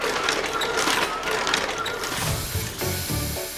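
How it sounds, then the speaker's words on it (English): A mechanical machine clatters and ratchets in quick repetitive strokes, with rhythmic thumping near the end, like a book sewing machine at work. "Did you hear the sound the book sewing machine made?"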